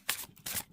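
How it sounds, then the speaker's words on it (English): An overhand shuffle of a tarot deck gives two quick, close, crisp riffling bursts, each a brief papery flutter separated by a short gap, with nothing else heard. "So let's see how the cards shuffle."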